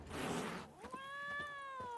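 A cat in The Witcher 3: Blood and Wine gives a single clear, drawn-out meow that rises then falls, after a brief burst of broadband noise. It is close and loud against a quiet background.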